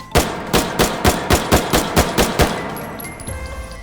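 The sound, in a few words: gunfire from a stripper-clip-loaded top-loader rifle in video game H3VR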